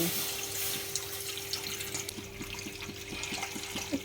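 Milk poured into a pan for homemade ice cream, a steady close trickle of liquid running continuously over a faint low hum.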